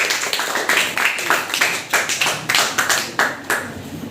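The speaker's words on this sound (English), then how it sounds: "Let's give him a round of applause" Applause for a school principal at an inter-class debate competition, a small group of hands clapping close by in a loose, fairly rhythmic patter with sharp distinct claps, steady for a few seconds.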